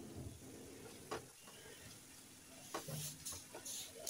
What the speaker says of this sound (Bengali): তো মশলাটা আরও কিছুক্ষণ আমি কষিয়ে নেব।